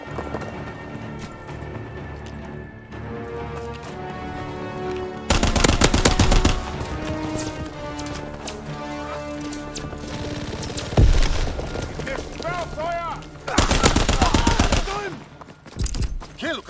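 Sustained automaton rifle fire from Call of Duty WWII on the Occupation map, with rapid automatic bursts and loud volleys breaking through a busy layer of game effects and gunfire.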